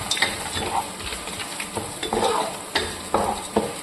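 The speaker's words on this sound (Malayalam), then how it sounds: "ഇനി ഞാൻ ഇതിലേക്ക് അണ്ടിപ്പരിപ്പും കൂടെ ഇടുക." Cashew nuts frying with onions in a pan for tomato rice, a steady sizzle with repeated stirring scrapes, close and moderately loud, no talk.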